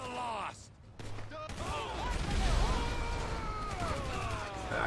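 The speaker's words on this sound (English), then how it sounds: "He's shooting off grenades." Grenade blasts and bursts of gunfire ring out in a GTA 5 firefight, sharp bangs and crashes tumbling over one another while someone talks excitedly over the chaos.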